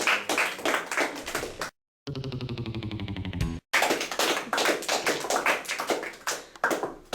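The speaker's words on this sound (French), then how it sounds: "Oui, c'est bien ça, on les applaudit." Students in a school quiz competition clap for the winning team, a loud, dense burst of close hand claps that breaks off briefly, with a separate tonal sound in the gap, then resumes and continues.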